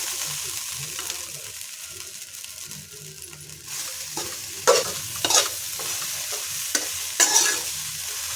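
A spoon stirs egg fried rice with chicken masala and coriander powder in a pan, making repeated scraping and clinking strokes over a soft, steady sizzle, close and moderately loud.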